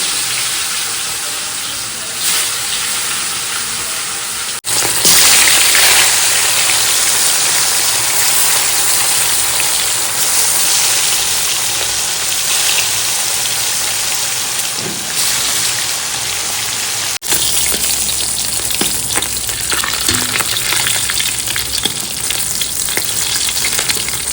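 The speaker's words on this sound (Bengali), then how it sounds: "তেল গরম হয়ে গেছে মাছগুলো ভেজে নেবো" Fish frying in hot oil in a home kitchen, a loud, steady crackling sizzle that continues throughout with occasional stirring or shifting sounds and no talk.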